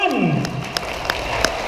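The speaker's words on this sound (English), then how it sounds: "A round of applause for everyone!" An audience at a graduation ceremony at a Filipino institute in Dubai applauds the graduates briefly, with scattered claps under a fading tone and a voice over the hall's sound system.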